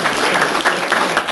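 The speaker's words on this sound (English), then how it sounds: "Okay, you can clap for me." Short burst of audience applause at a professional technical talk, loud and dense, swelling in small waves for just over a second.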